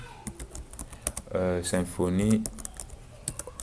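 Typing a Symfony command on a computer keyboard: rapid, light key clicks in an irregular rhythm, close by, continuing under and around someone speaking French.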